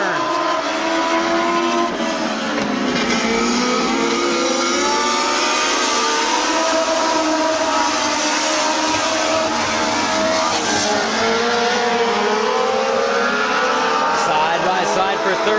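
Race cars running bumper to bumper at Midvale Speedway during a 2004 fall classic, a loud continuous roar of engines that holds steady throughout, with a commentator talking over it.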